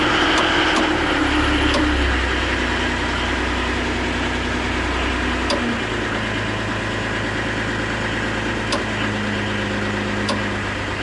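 A truck engine idles steadily at even revs after starting, a low continuous rumble with some vibration and a few faint clicks, heard close and alone without talk.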